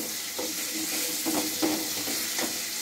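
Ground cumin and chili powder being stirred into a sizzling frying pan while cooking potatoes, with a steady broad fry hiss and a few soft spatula scrapes spaced across it, close and fairly loud.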